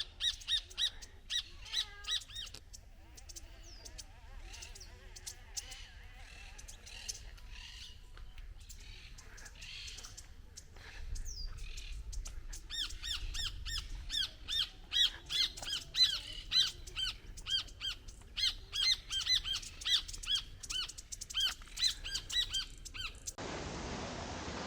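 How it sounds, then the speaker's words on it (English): Many birds call in a Brazilian outdoor setting, a busy mix of squawks, chirps and repeated sharp calls, growing thicker and more rhythmic toward the end. "And you can just see all the birds coming in."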